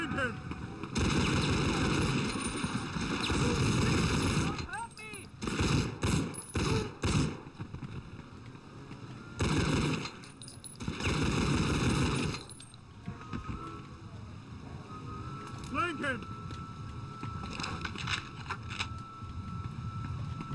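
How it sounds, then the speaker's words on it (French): A pump shotgun fires in a video game with loud bursts of gunshot blasts and heavy rattling impacts in dense clusters, broken by short quieter gaps, with a voice talking over the action. "Mieux vaut utiliser le fusil à pompe"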